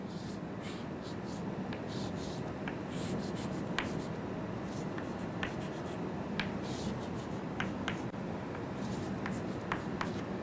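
A marker or chalk scratches steadily across a board as a diagram is drawn during a lecture, with scattered sharp tapping strokes over a constant room hiss, faint and close with no talking.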